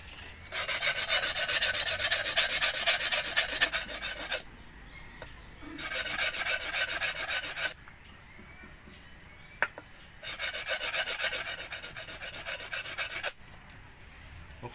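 Rough, rasping sandpaper strokes in three long bursts, each several seconds, with brief quiet pauses between them; close and steady, sanding by hand.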